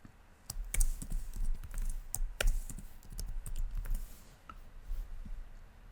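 Typing on a computer keyboard while entering a SQL Server query, with steady, irregular keystrokes close by and a few heavier taps, no voices.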